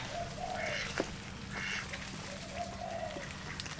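Ducks quack a few times at moderate distance, with short nasal calls spread out over a low ambient hum.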